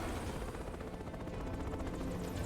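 A helicopter in Metal Gear Rising: Revengeance drones steadily with a dense, low rotor rumble, at a fairly faint level throughout.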